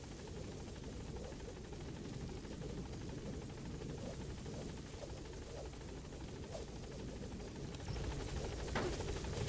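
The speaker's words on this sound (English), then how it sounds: "Support helicopter has arrived." A support helicopter in the Metal Gear Solid V video game arrives at the landing zone, its rotor thudding in a steady, moderately loud drone that swells slightly toward the end.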